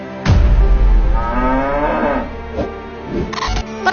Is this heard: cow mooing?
yes